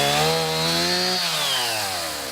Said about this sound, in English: I loaded up my chainsaw and came this way.